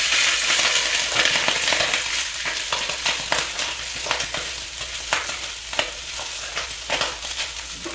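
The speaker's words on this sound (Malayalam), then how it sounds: "റൈസ് ചെറുതായിട്ടൊന്ന് റോസ്റ്റ് ചെയ്തെടുക്കാം" Washed rice roasting in ghee with whole spices for a biryani: a steady, close sizzle with repeated scraping and clicking stir strokes throughout, and no voices.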